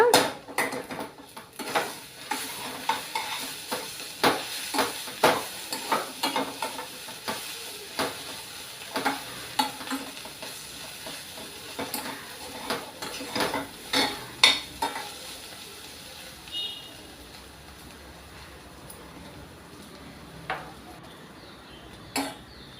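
Ponnaganti leaf curry being stirred and fried in a pan on a gas stove, with a spatula scraping and clinking against the metal over a soft, steady sizzle; the scraping strokes are frequent and close, thinning out toward the end.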